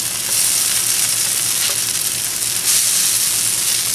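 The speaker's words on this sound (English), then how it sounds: "So you just want to flip them over." Freshly flipped zucchini fritters fry in a pan with a loud, close, continuous sizzle and dense crackle that swells slightly near the end, uninterrupted by any talking.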